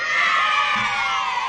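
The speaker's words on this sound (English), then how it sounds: "The kids are cheering, dude." A children's cheering and screaming sound effect plays as one loud, sustained burst of excited voices.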